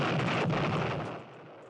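A loud booming explosion sound effect, used as a comic sting, bursts at once and then rumbles and fades over about a second and a half, with no voices over it.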